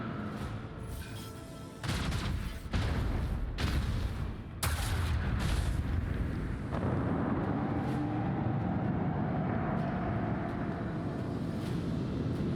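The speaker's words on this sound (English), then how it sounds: "The frigates launch torpedoes." Torpedo explosions in the Warhammer 40K Rogue Trader video game, several heavy blasts and rumbling booms in quick succession followed by a sustained low roar, fairly faint and without speech.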